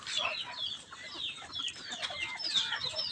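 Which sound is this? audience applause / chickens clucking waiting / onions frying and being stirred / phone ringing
chickens clucking waiting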